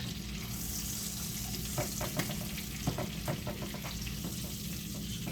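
Onions frying in a pan give a steady, close sizzle with a few scattered pops and stirring scrapes, all alone with no voices.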